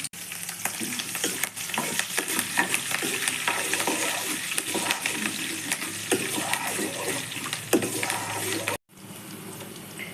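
Curry leaves and green chillies sizzling in hot oil for rava idli, with loud continuous crackling and spitting plus scattered stirring clinks, then a brief cut and quieter sizzling at the end.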